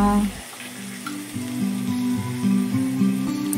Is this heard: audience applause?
no